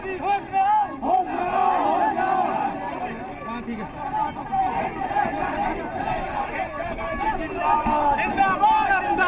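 Congress party workers protest in Hathras, a large crowd chanting and shouting slogans in rhythmic bursts with a steady babble of voices underneath, loud and continuous throughout.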